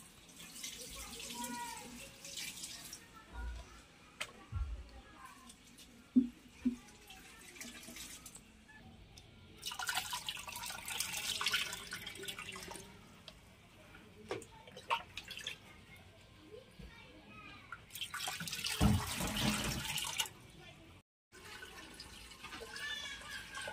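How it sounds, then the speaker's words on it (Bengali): Water pours in bursts into an aquarium being filled slowly during a fish tank setup, with splashing and running-water rushes separated by quieter gaps, and a voice talking at times. "এবার আমরা অ্যাকোয়ারিয়ামটাকে জল দিয়ে ভর্তি করে দেবো"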